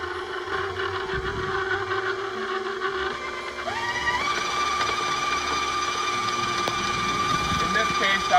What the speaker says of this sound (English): I'm on number 5 or 6 on the KitchenAid mixer